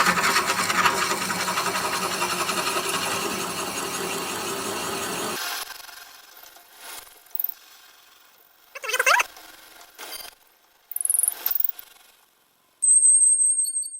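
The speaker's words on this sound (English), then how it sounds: "Got the lathe spinning at about 350 RPM." A steady mechanical whirr of a wood lathe spinning at about 350 RPM runs for several seconds, then cuts out, followed by scattered rubbing, scraping, and a brief high whine.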